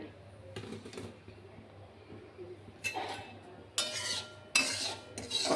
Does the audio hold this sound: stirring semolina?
yes